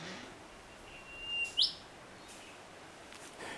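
A single Ouvéa parakeet gives a short, sharp rising call over faint outdoor background hiss, with a couple of softer chirps afterward.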